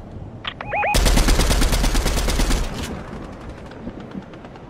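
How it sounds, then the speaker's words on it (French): Rapid automatic gunfire from the video game Fortnite rattles in a dense burst of about two seconds, loud and close, trailing into a few scattered shots. "Je me fais tirer dessus."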